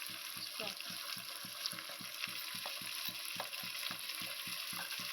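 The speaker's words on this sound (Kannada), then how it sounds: "ನಾವು ಇದನ್ನ ಚೆನ್ನಾಗಿ ಫ್ರೈ ಮಾಡ್ಕೊತಾ ಇದ್ದೀನಿ" Masala with chili powder frying in a pan for a spicy chicken curry, a soft continuous sizzle broken by a regular, rapid scraping of the spoon as it is stirred, fairly quiet and close with no talk.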